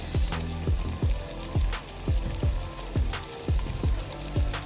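Steady sizzling of yellow croaker fish frying in a pan with repeated clattering knocks, close and fairly loud, no voices.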